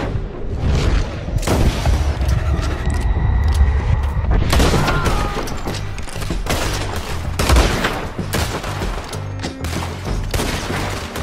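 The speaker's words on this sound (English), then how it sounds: "shooting my way across" Heavy gunfire in the video game Red Dead Redemption 2, a chaotic fusillade of loud, booming shots and overlapping reports sounding close and then farther off, continuing for several seconds without talk.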